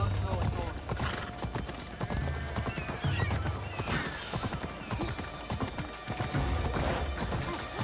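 Horse hooves clip-clopping in the video game Assassin's Creed Odyssey, a steady rhythmic trot with snorts and a whinny, under game music and people talking.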